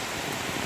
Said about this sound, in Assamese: এতিয়া বেয়া বৰষুণ দি আছে ইয়াত